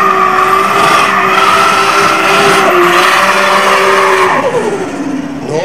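A car roars hard on a quarter-mile drag strip laid out on an airfield, its loud engine note holding high and climbing, with a tire squeal near the end as it pulls away.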